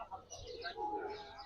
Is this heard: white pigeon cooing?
yes